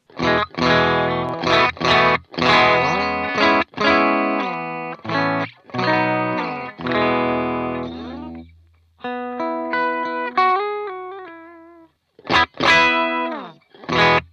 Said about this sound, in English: let's go ahead and take a listen to clean tone before we turn this pedal on